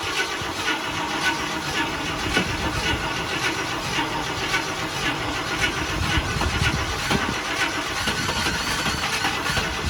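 A 1972 International Scout 2 engine churns and runs close by, a steady, rough mid-pitched rumble that holds for the full stretch with slight surges.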